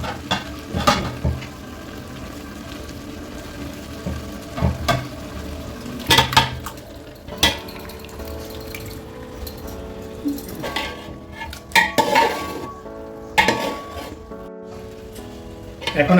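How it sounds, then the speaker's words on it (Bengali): Chicken fries and sizzles in a pot for morog polao, with repeated stirring, scraping and sharp clanks of a spoon against the metal rim over a continuous crackle. "এখন আমি মুরগি দিয়ে দিচ্ছি।"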